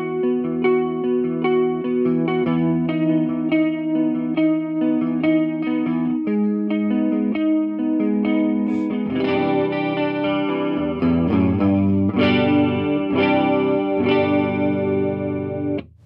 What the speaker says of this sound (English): We then have chorus, which sounds like this.